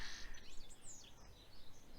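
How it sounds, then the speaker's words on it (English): A flock of about eight or nine goldfinches sings at garden feeders, giving faint, high, twittering chirps that sound somewhat distant against low background noise. "there's a lovely charm of goldfinches which have been visiting the feeders recently, up to about 8 or 9 of them in a flock"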